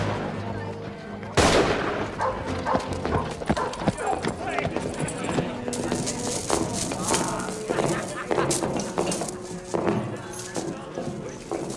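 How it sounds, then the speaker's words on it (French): Gunshots ring out in an outdoor Western setting, a sharp loud crack followed by scattered shots and horse hooves clip-clopping, with distant crowd noise. "On a entendu des coups de feu."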